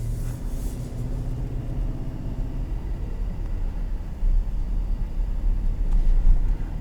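A 2021 Nissan Armada Platinum's 5.6-litre engine works under throttle while driving, a low steady rumble heard from inside the cabin with road and wind noise, building slightly louder toward the end.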